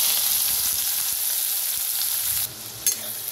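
Chopped onion fries in hot oil with cumin seeds and asafoetida for a Maharashtrian masoor dal and onion dish, giving a steady, close, even sizzle and hiss throughout with no talking.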